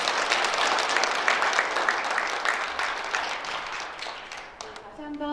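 Audience applause at the close of a morning lecture breakfast event, dense steady clapping from a seated crowd that tapers off toward the end as a voice begins.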